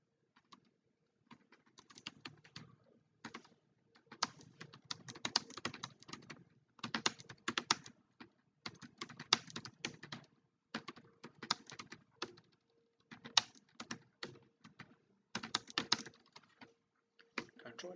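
Code being typed on a computer keyboard in quick, close bursts of clicks with short pauses, soft and intermittent, while someone talks quietly now and then.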